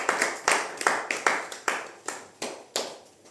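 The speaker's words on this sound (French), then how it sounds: "On acclame la parole de Dieu" A church congregation acclaims the word of God with rhythmic clapping, about a dozen sharp claps falling in a steady beat, close and distinct.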